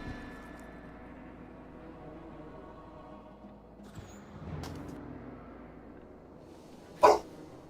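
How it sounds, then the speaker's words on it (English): Dogs at home give a sharp, loud bark near the end after a few fainter, distant yips, with a quiet background hum throughout. "my dogs are barking"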